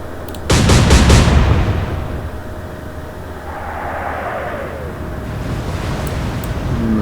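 Naval gunfire at sea in the video game Atlantic Fleet: a sudden loud cannon blast that booms and decays over a second, followed by a steady background of ocean surf and wind.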